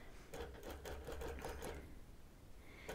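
A longarm quilting machine stitching binding onto a quilt, rapid rhythmic needle clatter running in a close burst for under two seconds before easing off into quiet.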